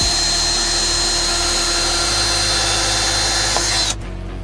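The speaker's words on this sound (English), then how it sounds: "Let's go ahead and drill that one." A power drill whirs steadily and loudly for about four seconds drilling a bolt hole, then cuts off abruptly, leaving a quieter background hum.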